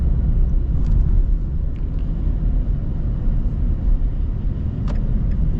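A lifted Nissan Frontier Rocky Ridge pickup truck heard from inside while driving. Its engine and road noise make a steady, heavy low rumble, with a few faint clicks and no talk.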